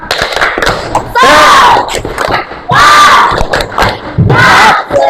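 A group claps in a fast rhythm and shouts a chant together in three loud bursts, with busy clapping between the shouts.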